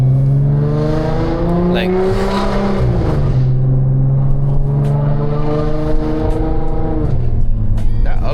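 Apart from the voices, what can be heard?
Audi car engine upshifting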